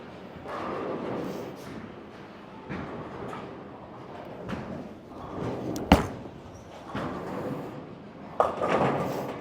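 A bowling ball rumbles down the lane in a long rolling roar, ending in sharp pin crashes, with alley noise around and faint voices in the background.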